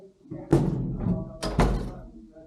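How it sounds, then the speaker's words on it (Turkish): Heavy thuds against a door in a home, three loud hits in two groups, booming and close. "Kapıyı kıracaklardı."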